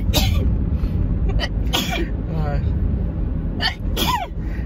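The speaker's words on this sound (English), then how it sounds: "I'm going to sneeze." A person sneezes several times in sharp, abrupt bursts inside a vehicle, close to the microphone, over a steady low road rumble, with some talking around the sneezes.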